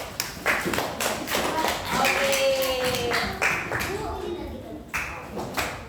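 Scattered hand claps from a small group, uneven and brief, mixed with a voice speaking over them.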